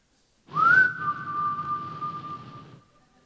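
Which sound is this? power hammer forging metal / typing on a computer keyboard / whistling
whistling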